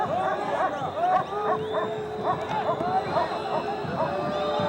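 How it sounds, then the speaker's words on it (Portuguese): A police dog barks and yips at a Brazilian football match between Náutico and Vasco, the barking fairly near and recurring over steady crowd noise and a commentator's voice. "o cachorro do policial tá bravo"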